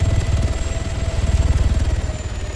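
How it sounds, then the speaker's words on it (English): Steady rhythmic thumping of helicopter rotor blades with a droning engine in the video game Arma 3, loud and continuous, no voices. "Comes the helicopter."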